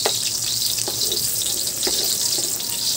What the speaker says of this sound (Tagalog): Ngayon, gisa na natin yung ating bawang.